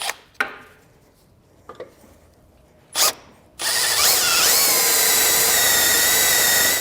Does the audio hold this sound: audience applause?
no